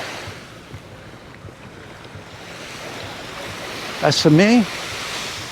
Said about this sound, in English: Just give you a quick look at the beach there.